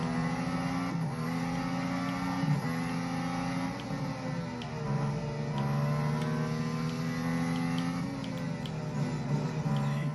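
Racing car engines roar in the mobile video game Real Racing 3 running on an ODROID C4 Android TV box, a continuous loud drone whose pitch climbs and dips with shifts and acceleration, with no voices.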